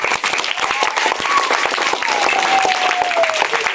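Outdoor crowd clapping at a village street show by travelling madari performers, steady dense applause with a faint whistle-like tone running through it, moderately loud throughout.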